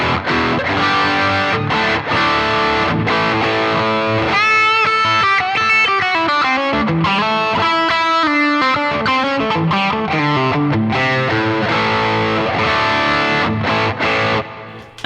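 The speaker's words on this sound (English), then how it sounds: "At the moment it's set to the tube screamer setting, and it sounds like this." Electric guitar through an Earthquaker Devices Plumes overdrive pedal on its tube screamer setting, a loud driven riff of chords and single-note lines played steadily for about fifteen seconds.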